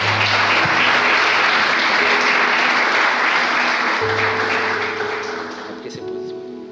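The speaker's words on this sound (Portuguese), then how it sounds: "Vamos aplaudir o Senhor pela vida dela, amém?" Dense, loud applause from a church congregation, filling the space steadily before gradually tapering off, with a held organ or keyboard tone underneath and a voice briefly heard near the end.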